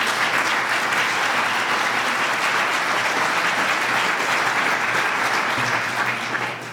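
An audience at an evening talk on exercise and healthy aging applauds to welcome the speaker, a dense, steady wash of clapping filling the room and holding loud throughout.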